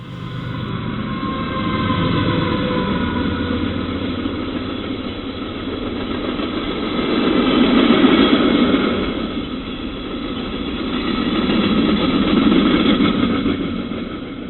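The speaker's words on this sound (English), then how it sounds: "this Union Pacific mixed freight train with 4 locomotives" A Union Pacific mixed freight train with four locomotives passing trackside in the evening, a loud, sustained engine rumble and rolling roar that swells and eases in waves across the whole stretch.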